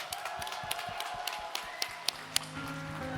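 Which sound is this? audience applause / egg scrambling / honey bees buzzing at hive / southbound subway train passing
audience applause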